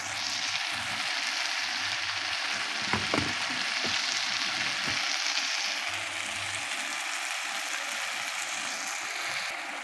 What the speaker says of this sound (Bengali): আজকের মাংসটা আমি সরিষার তেল দিয়ে রান্না করছি